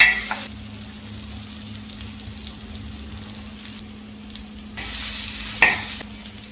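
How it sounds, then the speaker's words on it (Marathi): Dried golma fish tempering in hot oil, with bursts of loud sizzling at the start and again near the end and a brief stir. A steady low hum fills the quieter stretch between them. "गोलमा फोडणीला दिला."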